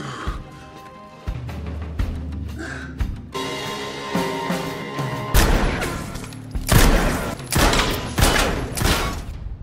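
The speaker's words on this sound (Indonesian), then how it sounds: "Brian juga mendatangi latihan tembak agar dirinya bisa berlatih menembak dengan cara yang benar." Bursts of gunfire at a shooting range crack out in quick succession, loud sharp shots coming in clusters with short gaps, growing denser toward the end.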